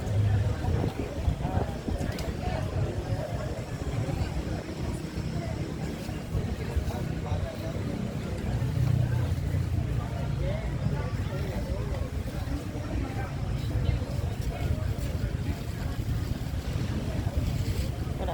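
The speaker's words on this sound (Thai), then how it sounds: "เสียงคลื่น จะมีเรือ" Sea waves wash onto a beach as boats pass offshore, a steady low rumble of surf and engine drone mixed with wind buffeting, continuous and fairly faint, while people talk over it.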